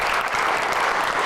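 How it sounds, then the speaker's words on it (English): Audience applause at a coding hackathon event honoring sponsors, a steady dense wash of many hands clapping throughout, close and even in loudness with no voices. "So round of applause for them,"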